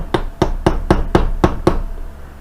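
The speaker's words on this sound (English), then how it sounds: "we're going to just fold this over on itself like we did the other ones with my chisel" A hammer strikes a chisel to fold over a rivet during Corvair suspension ball joint and bushing work: seven loud, evenly spaced metallic blows close by, each ringing briefly, with no talk.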